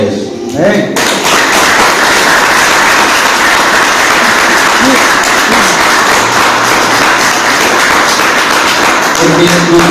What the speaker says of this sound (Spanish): Y usted puede darle palmas al Señor por eso.